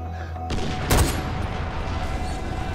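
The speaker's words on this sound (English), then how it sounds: "They're shooting mortars." Mortar fire in Far Cry 4 combat: a sudden heavy blast followed by a sharp bang and sustained rumbling roar of artillery and gunfire.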